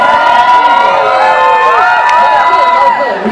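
A large crowd at a Red Bull event at NCA in Lahore, Pakistan screams and cheers loudly and continuously, a dense wall of high-pitched shouting voices close by.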